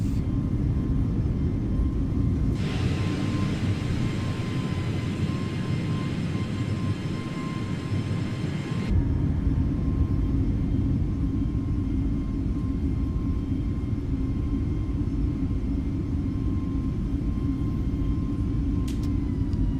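Airbus A320 in Microsoft Flight Simulator on takeoff and climb, a steady broad engine roar with a brighter rushing band for several seconds, then continuing as an even rumble.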